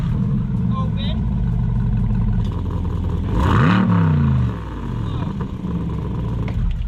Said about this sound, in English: if I push this Z button, the tone of the exhaust changes